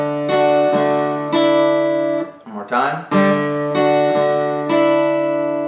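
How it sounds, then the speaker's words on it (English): Acoustic guitar strummed in straight eighth notes with a down-up pattern on a song, ringing chords with regular strokes, close and loud, briefly interrupted by a spoken phrase midway. "this is straight eighth notes, so you're going to be strumming down, up, down, up, down"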